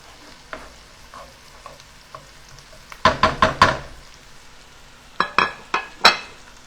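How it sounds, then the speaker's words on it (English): Onions sauteing in a pan, a soft background sizzle punctuated by two quick bursts of spatula scraping and knocking against the pan, loud and close. "we're going to let this saute till they get soft"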